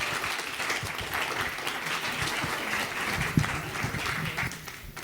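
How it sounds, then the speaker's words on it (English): Steady audience applause from a conference crowd thanking panelists at a marketing summit in New York City, dense clapping sustained evenly for the whole stretch with no voices over it. "Please give it up for them. Round of applause."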